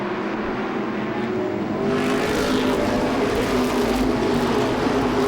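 Modified race cars roar around the Seekonk Speedway oval, a loud continuous blend of revving engines that swells as cars pass close by, with no voices heard.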